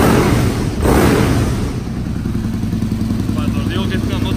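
An Aprilia Tuono 1000, a 125-horsepower twin-cylinder motorcycle, revs loudly close by, a sharp burst of throttle rising then settling into a rough, throbbing idle.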